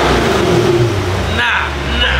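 A new car's engine revs up close with a rising mechanical roar, while people talk over it.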